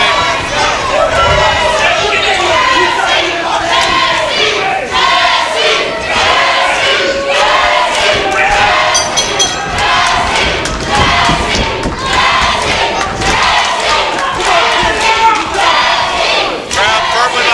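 A loud wrestling crowd at a PCW Limelight match roars, cheers and chants continuously, with occasional thuds and scattered voices mixed into the steady din.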